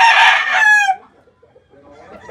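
A rooster of the Clemen line, kept with five chocolate hens, lets out a loud, close crow with bright harmonics that ends after about a second, followed by faint low clucking.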